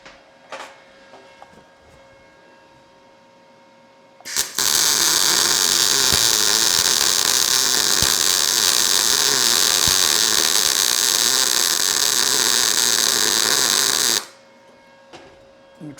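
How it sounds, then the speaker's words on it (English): A Sefaspe MIG200 Pro MIG welder lays a bead in one loud, continuous crackling buzz lasting about ten seconds, then stops abruptly. Quieter workshop noise comes before and after it. "This thing welds pretty good."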